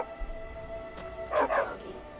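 A dog in the video game Skyrim gives a quick pair of barks midway, over a faint steady game ambience.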